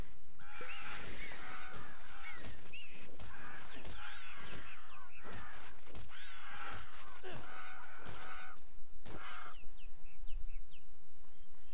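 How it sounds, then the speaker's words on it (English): Crows in the video game Titan Quest caw repeatedly in harsh, overlapping calls, a near, loud flurry of squawks that keeps going over a busy game backdrop before tapering off near the end. "Man, these birds are annoying, aren't they?"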